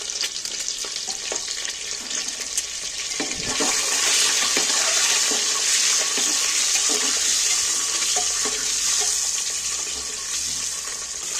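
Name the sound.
eggs frying in oil, turned and stirred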